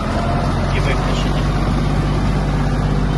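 A Kubota GL-320 Japanese mini tractor drives and turns, with its engine giving a loud, steady, close rumble and broad mechanical noise throughout, and a voice speaks over it.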